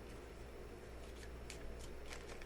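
A tarot deck is shuffled by hand in repeated crisp riffles and slides, several quick papery bursts close by over a steady background hum, with no talking.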